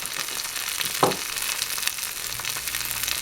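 A chicken pie fries in a skillet on a stovetop with a steady, close hiss of hot fat, broken by a brief louder bump and a few light pops, no voices.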